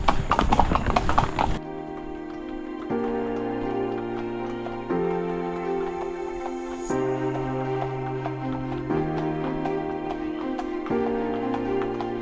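Horse hooves clip-clop at a steady walking pace in Matheran, close and distinct, with a horse's whinny and brief talk at the start.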